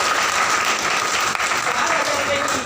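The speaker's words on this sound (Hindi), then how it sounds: "तो जोरदार तालियां होनी चाहिए।" Audience applause at a business plan presentation, a steady, dense wash of clapping filling the room at full volume and continuing throughout with no break.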